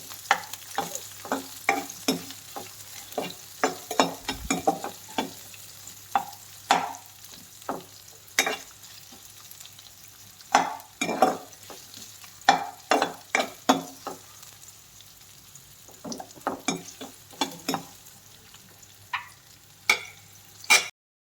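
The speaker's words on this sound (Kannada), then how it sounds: "ಈರುಳ್ಳಿ ಆ್ಯಡ್ ಮಾಡಿ ಚೆನ್ನಾಗಿ ನಾನು ಆದಷ್ಟು ಬ್ರೌನ್ ಆಗಿ ಫ್ರೈ ಮಾಡ್ಕೊತೀನಿ" Onions browning in hot oil in a pan, stirred with a spoon, give repeated scraping clatters and soft sizzling over a low steady hum, with no talking.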